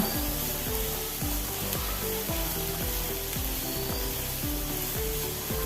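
Sliced onions sizzle loudly in a pan over a full gas flame for egg thoran, with a steady frying hiss and regular rhythmic scraping strokes from stirring. No voices are heard.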